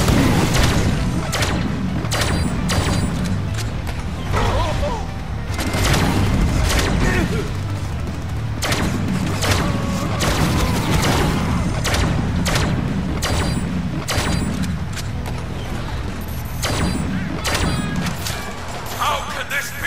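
Explosions and gunfire from the Deadpool video game, a dense, loud barrage of booms, crashes and shots that keeps up for about twenty seconds, with an excited voice shouting over the chaos.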